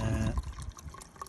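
Coolant water is poured into the expansion tank of a BMW Mini Cooper S, a close, steady liquid gurgle with bubbling and small splashes throughout the short stretch.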